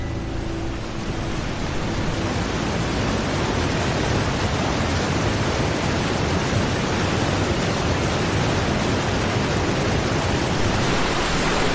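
Rhine Falls at Schaffhausen, a huge mass of water plunging over the falls, produces a loud, dense, unbroken roar that stays steady throughout, with no voices.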